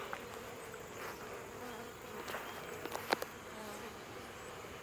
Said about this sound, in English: Some of those bees will come back over here.